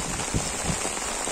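Rain falls steadily on a garden plot, a constant close wash of patter with a few slightly louder drops breaking through, and no voices.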